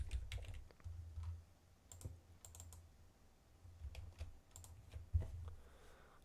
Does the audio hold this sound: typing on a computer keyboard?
yes